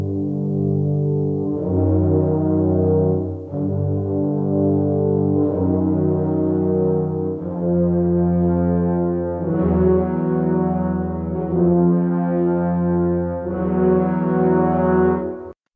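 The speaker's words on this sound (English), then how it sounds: "let's just listen to the Horns of the Deep polylegato patch." Cinebrass Horns of the Deep polylegato low brass patch playing sustained, rich chords that shift smoothly every couple of seconds, a deep, steady ensemble tone held loud throughout.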